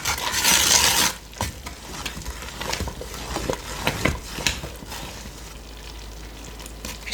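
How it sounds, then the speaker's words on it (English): A spoon stirs and scrapes a thick bee candy mixture with pollen and spices around a pot, close up: a loud burst at first, then a run of rhythmic scraping strokes over a low steady hiss. "if you kind of just keep scraping it and stirring it in, it'll eventually work its way through"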